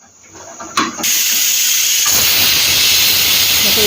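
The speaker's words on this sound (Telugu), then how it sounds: "ఒక విజిల్ చాలు, పట్టేస్తుంది." A pressure cooker on the stove lets out a loud, steady whistling hiss of escaping steam. It starts sharply after a brief click and carries on unbroken to the end, with no talk over it.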